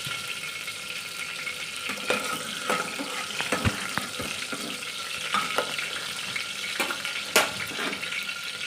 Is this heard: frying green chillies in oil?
yes